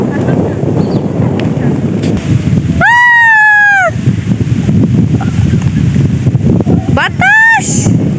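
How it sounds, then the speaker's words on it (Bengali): Strong wind blows on a riverbank, roaring as loud, continuous buffeting against the microphone. Two brief, high tonal whistles cut through the gusts. "আচ্ছা দেখেন অনেক বাতাস, জামা কাপড় সব পুরে যায়।"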